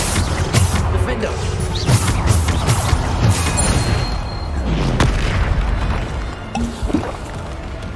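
The Bombarda explosion spell goes off in a video game on hard mode: a dense run of booming blasts and crashing impacts, loud and close, one after another.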